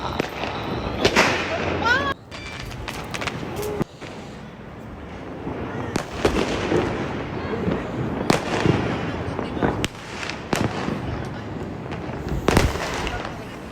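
Diwali fireworks and firecrackers burst at night in a steady series of sharp cracks and booms, some near and some farther off, while people talk and react throughout.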